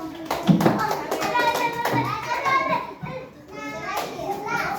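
Schoolchildren in a classroom clap during a group quiz. A few sharp claps are mixed in with lively, overlapping children's voices chattering throughout.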